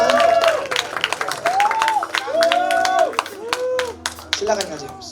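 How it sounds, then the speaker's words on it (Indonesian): A crowd at a Christmas celebration with The Jakmania applauds as a guest is welcomed to the front, clapping and cheering continuously while an amplified voice speaks over it and tonal music-like sounds weave through. "Boleh sambut dengan tepuk tangan Bapak Ibu"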